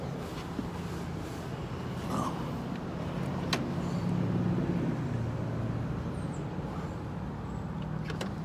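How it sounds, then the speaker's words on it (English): A car engine runs at idle, a steady low rumble heard from inside the vehicle, close and continuous with no speech. "Oh my God, the car is on."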